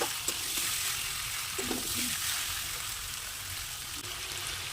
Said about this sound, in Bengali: দেখুন আমি এবার মশলার সাথে খুব ভালোভাবে মাংসটা মিশিয়ে নিচ্ছি।